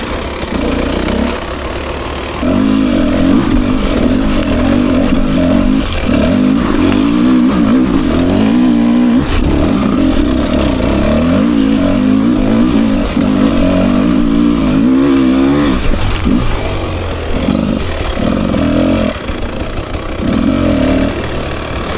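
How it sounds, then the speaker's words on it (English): A 2024 Beta 300 RR Race Edition dirt bike engine lugs low up a steep hump, giving a loud, close, continuous chugging drone with rough pulsing low-rpm throb, briefly easing and picking back up near the end. "I lugged the bike way down low when I crested that little hump because it was pretty steep"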